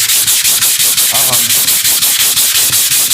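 Loud, close hand sanding of a wood floor with fast, regular back-and-forth strokes, a continuous gritty scraping that pulses several times per second without any speech.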